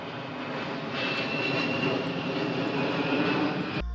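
Amphibious firefighting aircraft flying over forest fires in Kavalerovsky district, a steady, fairly loud engine drone that swells slightly after the first second and holds constant without voices.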